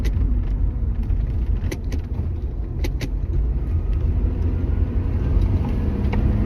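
An Acura RSX with new tires drives at speed, pulling hard in third gear, producing a continuous loud road and engine rumble from inside the cabin with a few sharp rattles or clicks.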